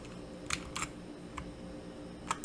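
A handful of scattered keystrokes on a computer keyboard during data entry in Power BI, soft isolated clicks over a quiet background hum.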